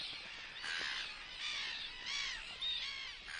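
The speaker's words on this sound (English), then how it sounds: "Here in Argentina, brown-hooded gulls are nesting." Brown-hooded gulls call at a nesting colony in Argentina: a series of about five harsh, drawn-out cawing cries in steady succession, moderately close against a quiet background.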